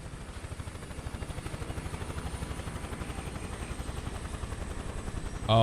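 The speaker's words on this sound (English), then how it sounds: "now that's a helicopter right there" Helicopter in Microsoft Flight Simulator 2024, a steady rhythmic rotor thump that holds throughout, moderately loud and close, with no voices over it.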